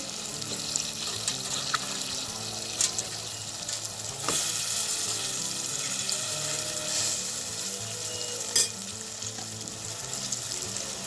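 Chicken sizzles in a pan for aloo chicken curry, a steady moderate frying hiss with occasional sharp clicks and utensil knocks on the pan.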